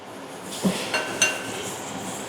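Raw fish pieces dropped one at a time into a pan of hot oil for frying, giving three soft clinking knocks against the pan over a low steady sizzle, close by with no talk.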